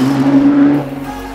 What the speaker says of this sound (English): what a blast driving this GTR at the Snetterton Circuit, a real racetrack with a real car